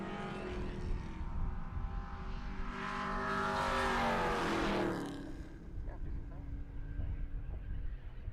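A 1971 Ford F100 truck drag racing down the strip at a motorsports park, its engine swelling to a loud roaring pass, then fading, under a continuous announcer's voice.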